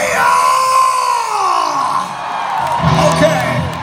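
An arena concert crowd in Poznań, Poland screams, whoops and cheers loudly and continuously for a few seconds, a dense close roar with rising and falling yells.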